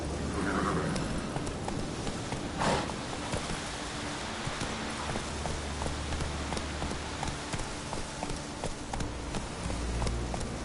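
Horse hooves clip-clopping at a steady gallop in The Witcher 3, set in Skellige, a continuous rhythmic patter carrying over rain-like ambient hiss and low rumble throughout, with no speech.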